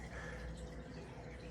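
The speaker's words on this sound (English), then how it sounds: "I use a pipette to add 10 milliliters of distilled water" Distilled water drips from a pipette into a graduated cylinder during a lab exercise, a very faint, soft trickle over low background hiss.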